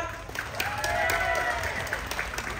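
An audience at a national buffalo contest claps for a black male buffalo entry, a soft, steady patter of applause at a distance with crowd murmur under it.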